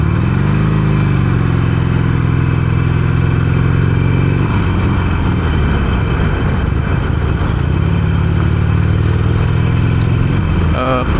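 A Harley-Davidson Iron 883 motorcycle engine drones loudly and steadily the whole time, with its pitch easing down and rising again as the ride goes on.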